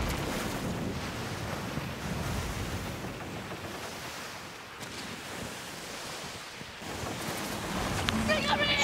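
A stormy sea in Skull and Bones roars continuously, with wind and crashing waves forming a dense, loud wash that swells slightly toward the end.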